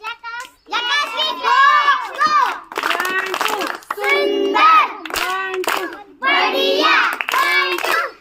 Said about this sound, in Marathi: त्या गटासाठी जोरदार ओके झकास क्लॅप घेऊया यांच्यासाठी